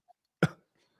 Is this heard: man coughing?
yes